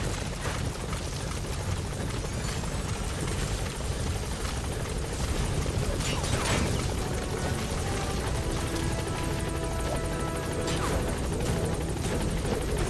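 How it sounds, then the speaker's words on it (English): A support helicopter in Metal Gear Solid V arrives at a landing zone, its loud, steady rotor thrum and engine roar filling the whole stretch without pause. "Support helicopter has arrived."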